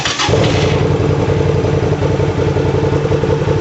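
A Hyosung GV250 motorcycle engine runs steadily and loudly up close while its clutch is engaged and the bike is put in gear, a continuous low pulsing rumble with no talking.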